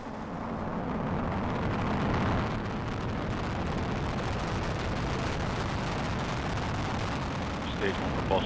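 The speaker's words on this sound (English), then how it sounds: "And liftoff of the Falcon 9 rocket and Dragon spacecraft" SpaceX Falcon 9 rocket carrying a Dragon spacecraft lifting off on the CRS-17 launch: a steady, loud, broadband roar with crackle holds for the whole stretch while a voice speaks over it.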